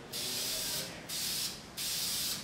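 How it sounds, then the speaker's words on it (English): Aerosol spray paint can misting a motocross bike frame, three close bursts of loud airy hiss, each about half a second to a second long, with brief gaps between. "The way I paint, at least with the aerosol can, is I like to stay about 12 to 15 inches or so away from the product."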